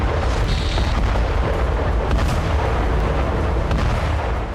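A loud, continuous roaring rumble of an explosion at a Ukrainian weapons depot, deep and heavy throughout, with a few sharp cracks rising out of it before it fades slightly.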